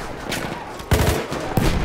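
Shotgun blasts in the video game Battlefield 1, two heavy booming shots about two-thirds of a second apart over a background of game noise, the first loud and close.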